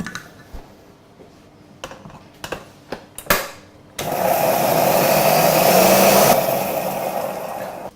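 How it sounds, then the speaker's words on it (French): Light kitchen clatter gives way to a loud, steady whirring as a blender purées chervil with a melted butter sauce, running close and alone for the final four seconds. "Tout ça, ça part au mixeur."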